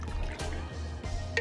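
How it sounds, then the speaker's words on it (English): Water pours into a pot of chicken and dumplings on the stove, a soft close trickle with faint splashes and a few light clinks, fairly quiet. "I'm gonna add some water to it, okay?"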